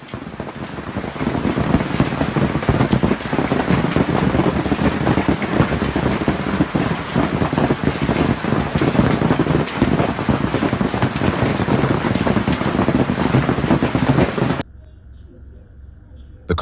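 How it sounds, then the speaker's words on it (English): A sudden hailstorm driven by wind batters the streets of Canberra, a dense, steady roar of hail and gusts that holds loud and unbroken for about fourteen seconds, then cuts off abruptly to near quiet. "A sudden hailstorm hit Canberra."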